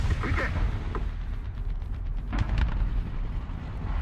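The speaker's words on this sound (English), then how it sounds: "I don't have smoke, so use artillery" Artillery strikes landing in War Thunder ground battles, a dense run of deep booming blasts and rumbling impacts that carries on steadily through the whole stretch at moderate loudness.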